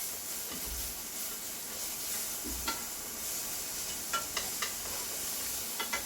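Meat sizzling and frying in a pan with a steady hiss, broken by occasional stirring scrapes and light pops.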